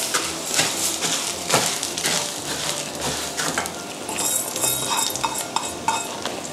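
Washed rice is stir-fried in a hot pan with fried garlic and coriander root, giving a busy crackling sizzle broken by repeated scraping and clanking of a spatula against the pan.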